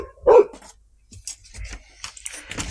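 A dog barks once sharply close by indoors during a TV repair, followed by quieter rustling and small handling noises.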